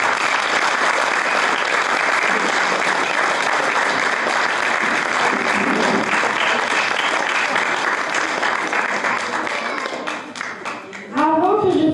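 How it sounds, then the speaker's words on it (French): Loud, sustained applause from a pageant audience at a Miss 2026 election ceremony, dense clapping throughout that thins near the end before a brief burst of cheering. "Je vous demande le tonnerre d'applaudissements pour Yanis."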